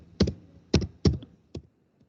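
A PowerShell script being typed on a computer keyboard: four distinct, fairly loud key clacks spaced irregularly, close up, with quiet gaps and no speech.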